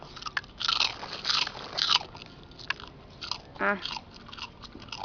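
Loud, close crunching as a dog bites and chews brittle pork rinds, in irregular bursts, with a brief murmur of a voice.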